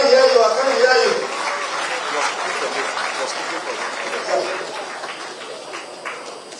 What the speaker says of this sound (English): Keep clapping for Barrister